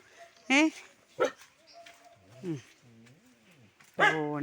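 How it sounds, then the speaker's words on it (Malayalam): A pet dog named Chikku gives a few short, sharp barks and whiny yips, close by, spaced out with quieter stretches between them. "ചിക്കു ഇവിടെ നിന്നുകൊണ്ട് കുരയ്ക്കാനൊക്കെ അറിയാവോ?"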